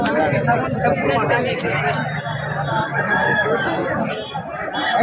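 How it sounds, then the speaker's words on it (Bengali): A rooster crows amid the busy Taltal poultry market in Purulia, its calls rising over constant crowd chatter and other clucking fowl, with people talking throughout. "আর একটা মুরগা আছে এই পারে, এটা একটু ছোট আছে, কিন্তু মুরগাটা দারুণ আছে"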